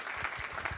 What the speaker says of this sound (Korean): 우리 다시 한번 우리 박성배 권사님께 감사의 박수를 한번 치겠습니다.